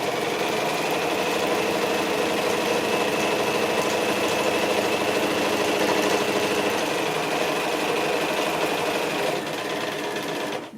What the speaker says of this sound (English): I'm going to sew right on top